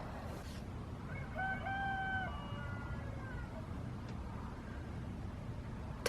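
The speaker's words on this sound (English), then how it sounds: "That is a rooster, right?" A rooster crows once in a long, wavering call heard at a moderate distance over steady background noise, with nighttime quiet and brief clicks before and after.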